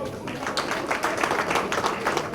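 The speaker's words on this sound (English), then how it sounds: "Please a round of applause" Audience applause at a PCNI Orlando Branch induction ceremony, a steady wash of many hands clapping throughout, moderately loud and fairly close, with no clear talk over it.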